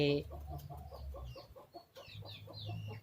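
A broody mother hen sitting on eggs clucks in a steady, rhythmic string of short, close calls, pausing briefly before resuming.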